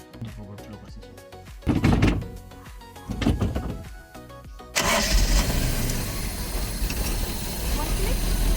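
A Toyota Hi-Ace van with a 1RZ engine and a carburetor problem being cranked, several loud starter bursts and thunks before the engine catches and settles into a steady, close running roar.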